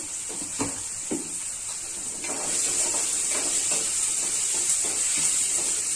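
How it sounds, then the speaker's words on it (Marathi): Tomatoes with turmeric and salt sauté in a pan for a homemade spicy brinjal bharit, giving a steady close sizzle and hiss with occasional soft stirring scrapes and no talk. "हे सर्व छान असं परतून घ्यायचंय टोमॅटो वगैरे"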